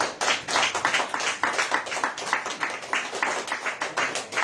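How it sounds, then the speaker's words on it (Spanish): A church congregation claps for the Lord during a Spanish-language sermon, a ragged run of hand claps with a loose, uneven rhythm, fairly close and continuous for a few seconds. "Denle aplausos al Señor."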